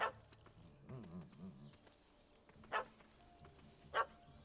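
Dog barks in The Witcher game, a few sharp isolated yaps spaced apart over a quiet ambient bed, with some low rumbling sounds early on.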